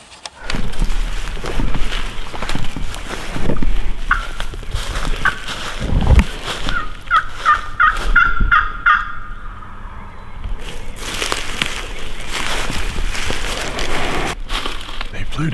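Wild turkeys gobbling at dawn on a Georgia spring turkey hunt, several distant gobbles rising through rustling outdoor background, with people talking quietly nearby.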